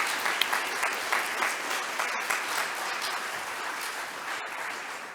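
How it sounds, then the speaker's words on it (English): Audience at a 2022 Livermore candidates' debate applauding the candidates, a sustained round of clapping with a few sharper claps early on, tapering slightly toward the end. "let's give them another round of applause"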